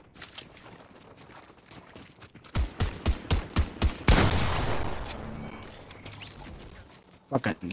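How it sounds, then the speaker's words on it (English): Video game gunfire: a rapid burst of loud shots cracks out midway, followed by a sustained noisy wash and a couple more shots near the end, with people talking throughout. "there's a bunch of shooting"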